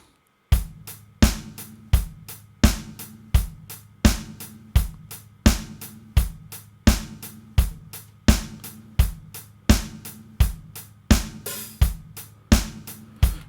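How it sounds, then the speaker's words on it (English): A simple drum pattern loops steadily, punchy kicks and crisp snare or hat hits in an even, repeating rhythm, dry and up front with nothing else playing. "Just a very basic drum pattern"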